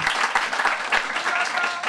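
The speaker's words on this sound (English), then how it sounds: "I want to hear a loud applause again to JJ." Loud audience applause at an evening panel talk on ballroom culture: dense, close clapping with a few cheers mixed in, filling the whole short stretch at a steady level.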